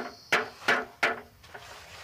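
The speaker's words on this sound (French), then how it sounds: "Je vais mettre un clou pour fixer le galva en haut et en bas." Small nails are hammered to fix galvanized sheet onto a homemade compost bin: three sharp, ringing metallic taps in quick succession, then a softer fourth, close up and alone.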